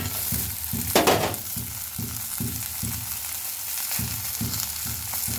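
Bean seeds and tomato frying in a pan, a steady soft sizzle with rhythmic scraping and stirring strokes, close and fairly quiet.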